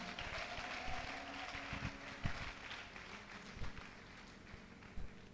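A church congregation claps at a testimony service: a rather faint, scattered patter of applause with uneven bursts, heard from a distance throughout.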